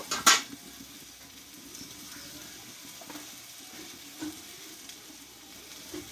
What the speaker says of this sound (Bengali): সবজিটা কিন্তু আমি সম্পূর্ণ ভালোভাবে কষিয়ে নিয়েছি